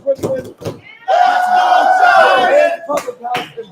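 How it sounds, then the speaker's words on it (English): A rowdy crowd of Giants fans in a Brooklyn pub bursts into loud cheering and yelling for about a second and a half, with someone talking before and after. "The crowd is rowdy, setting the scene."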